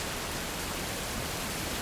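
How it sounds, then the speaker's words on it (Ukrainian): Steady rain falls on a gray day in late summer, an even, continuous broadband hiss with no distinct drops, close and moderately quiet, with no voices. "у мене така підозра вже два дні йде дощ"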